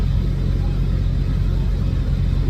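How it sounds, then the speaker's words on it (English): Idling trucks at a Wyoming rest area produce a steady, low diesel rumble that runs unbroken through the whole stretch, with no voices over it. "Hopefully you can hear me over the trucks running"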